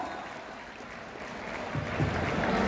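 Applause from a theater audience at a stage comedy show, fairly faint and diffuse at first, then swelling slightly louder toward the end as a crowd murmur rises beneath it.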